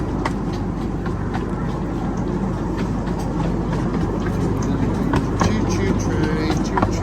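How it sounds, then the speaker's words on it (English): A safari park ride-on train rumbling along its track, a dense continuous low rolling noise with faint clicks and rattles throughout, close and steady, with voices talking over it. "Choo-choo train, choo-choo train,"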